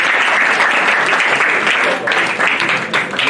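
An audience at a couples' seminar breaks into dense, sustained applause in praise of the Lord. The clapping stays loud and close, with a few voices mixed into the burst.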